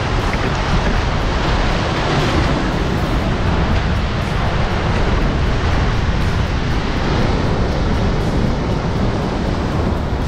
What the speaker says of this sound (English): Big waves coming in and they're crashing out over the top.